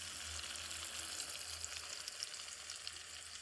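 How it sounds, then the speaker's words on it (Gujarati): Chillies frying slowly in oil in a pan, a steady, fine sizzle with scattered small crackles and pops, soft and continuous throughout with no voices. "મરચાં આ રીતના ફ્રાય ધીમે ધીમે જ કરવાના છે"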